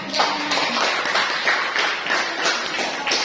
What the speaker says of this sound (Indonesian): saya rasa kita beri aplaus untuk kelompok 2 ya